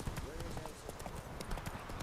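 Hooves of a galloping horse beat in a quick, steady rhythm in The Witcher 3 video game, fairly close and clear, with faint background game sounds.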